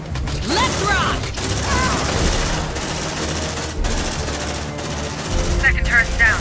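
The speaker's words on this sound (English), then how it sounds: "Deploying sentry gun." Automated sentry gun in the video game Aliens: Dark Descent firing sustained bursts of loud, rapid gunfire for several seconds, mixed with game effects and voices talking over it.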